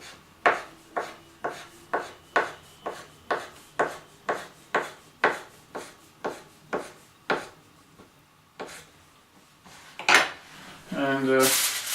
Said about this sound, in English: Then I'm gonna take one of the sausages, chop it small,